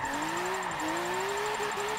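A BMW race car in Forza 7 holds a steady, sustained engine note while drifting, its pitch rising gradually, with a faint high whine running continuously underneath.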